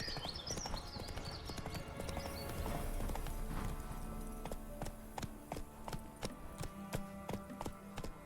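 Hooves of Roach, the horse in The Witcher 3, clip-clop in a steady galloping rhythm, starting amid busy game sound and becoming a clear, regular beat of hoof strikes.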